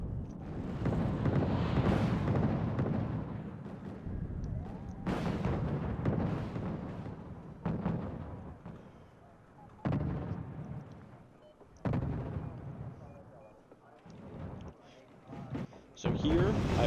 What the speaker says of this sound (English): So here, I put smoke down from my mortars to cover the SAS crossing this sort of gap from these tanks.